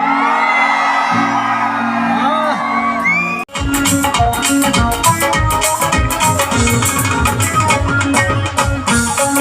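A large crowd at a live Dussehra concert in Amloh, Punjab erupts into loud whoops, cheers and shouts after a brief pause, with rhythmic clapping and music-like beats driving underneath.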